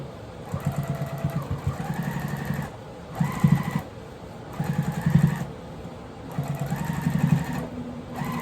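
A sewing machine stitches the bottom of a quilted tote bag pocket in four short bursts with brief pauses between them, its motor whirring and rising in pitch as each run speeds up.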